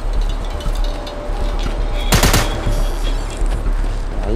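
Gunfire from the zombie shooter game Into the Dead cracks out in a dense automatic burst midway, over a constant loud game ambience.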